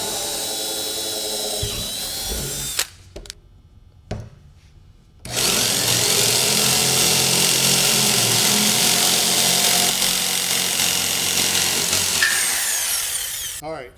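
A power saw cuts a 4-inch circle, likely a hole saw on a drill, grinding steadily at length, with a brief stop and restart partway through and no talking.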